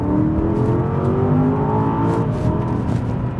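A 2022 Aston Martin DBX engine accelerating from inside the cabin, a steady loud rising drone with a quick gear change partway through.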